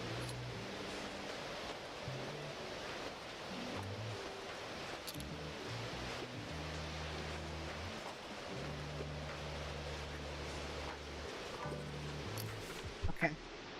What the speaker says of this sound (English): That rain is pouring.